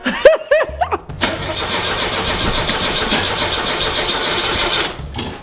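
An old car engine cranks with a few uneven whining turns, then catches and runs in a rough, steady, fairly close churn for several seconds before cutting out.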